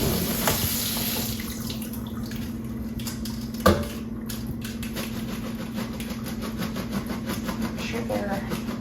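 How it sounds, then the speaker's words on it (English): Running tap water streams steadily over beans being rinsed in a kitchen sink, a constant hiss with a few clunks and a brief knock midway, while someone talks quietly in the background. "We'll rinse the beans and then start adding into the pot"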